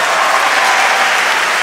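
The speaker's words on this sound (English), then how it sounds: "England teammates on their feet at the back of the court, applauding the youngster" Sustained applause from England teammates standing at the back of the court during a badminton men's singles final at the 2015 European Mixed Team Championships, a steady dense clapping wash throughout with no talk.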